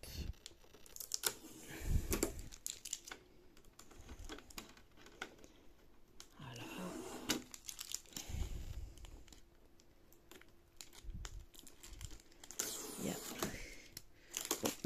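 Packaging around a Silhouette Cameo 4 Plus cutting machine is torn and crinkled during unboxing, producing quiet, irregular rips and rustles with scattered taps and brief low handling bumps.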